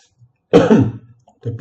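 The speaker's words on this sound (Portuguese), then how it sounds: "Tempinho para tosse." A single person coughs close by, one harsh throat-clearing cough followed after a short pause by a softer second cough, set against near silence.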